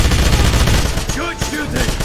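MG-42 machine gun fire in the Wolfenstein video game, a dense, loud burst of rapid automatic shots, with a game character's voice calling out over the gunfire.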